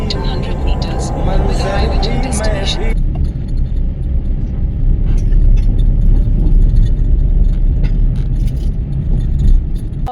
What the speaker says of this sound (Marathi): इथे आता आम्ही गाडी पार्क करतोय